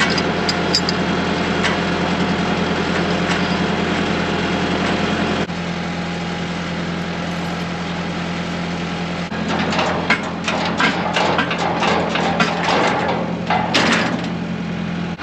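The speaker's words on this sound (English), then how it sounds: "see if I can get the tractor off of here" A tractor engine idles steadily close by with a low, continuous hum, joined in the latter half by scattered metallic clanks and knocks from work around a cattle squeeze chute.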